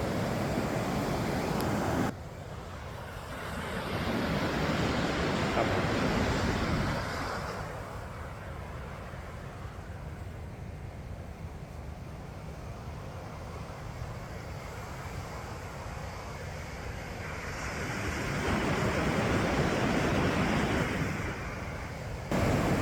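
Surf at Achara Wayangani beach rolls in slow swells, each wave building into a broad rushing wash and fading back, with wind noise on the microphone and no talking.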